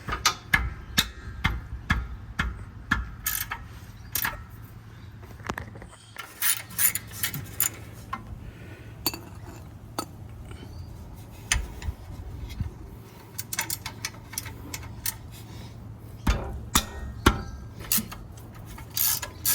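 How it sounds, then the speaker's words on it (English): A 17mm spanner works loose the brake caliper bolts on a Mitsubishi Pajero 4WD, producing scattered close metallic clicks, knocks and scraping taps at an irregular rhythm over a quiet background. "They're a 17mm, so I've got myself a 17mm spanner, and we're going to undo them."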